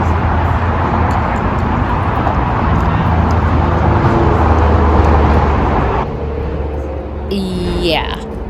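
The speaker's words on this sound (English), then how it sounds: "That sound is a very busy interstate just over that chain link fence." A busy interstate highway roars just beyond a chain link fence beside a garden on a narrow street, producing a constant broadband wash of traffic noise with a brief higher sound near the end.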